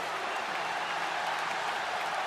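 A large arena crowd in WWE 2K25 cheers and applauds during a wrestling match. The roar is a dense, steady wash of noise that carries through the whole clip at moderate level, with no voice on top.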